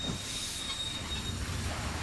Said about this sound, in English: So the train stops.